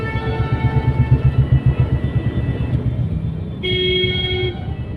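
Car horns sound in a traffic jam in Uttar Pradesh, with a steady low rumble of engines throughout and a sustained tonal honk swelling in near the end.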